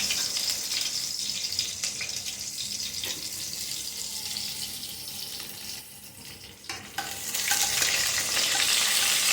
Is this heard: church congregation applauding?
no